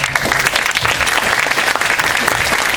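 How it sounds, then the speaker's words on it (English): Loud, dense applause from a crowd fills the whole stretch, steady and sustained without pause. "a warm round of applause to Napoleon Biggs from Web Wednesday."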